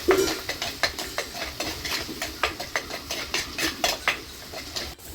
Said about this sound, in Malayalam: അതുകൊണ്ട് നന്നായിട്ടൊന്ന് വഴറ്റിയെടുക്കാം.